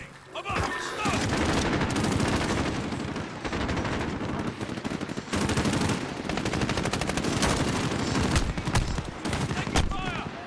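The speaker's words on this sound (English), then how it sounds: "Taking fire." Sustained video game gunfire: rapid automatic bursts and shots crackle almost continuously at loud level, with a brief lull near the start, under the noise of a multiplayer shooter match.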